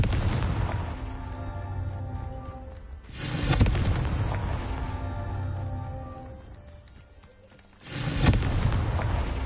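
Two heavy booming blasts from the Confringo fire spell in Hogwarts Legacy, roughly five seconds apart, each a loud broadband burst trailing off into rumble, with game music and ambience running between them.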